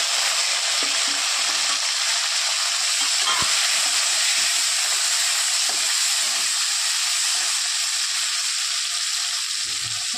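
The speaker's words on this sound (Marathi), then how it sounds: "लसूण लाल झाले। आता टाकत आहोत आपण टमाटर।" Tomatoes go into browned garlic frying in a pan for a green bean and potato vegetable dish, making a loud, steady, close sizzle with a constant hiss and no talking.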